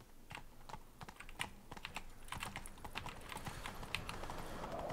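Rapid hoofbeats clatter in an uneven rhythm over a steady background rumble as a horse gallops in the video game The Witcher 3, close and moderately loud, with no speech.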